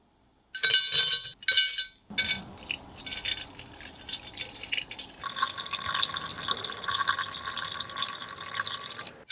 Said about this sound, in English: Then all the parts are placed into a glass container with rust remover.